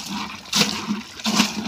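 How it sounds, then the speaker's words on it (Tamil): Water poured from a bucket into a home guppy aquarium, splashing in two strong gushes over a continuous trickle, close and fairly loud. "நம்ம எக்ஸ்ட்ரா தண்ணி ஊற்றி பார்க்கலாங்க ஃப்ரெண்ட்ஸ்."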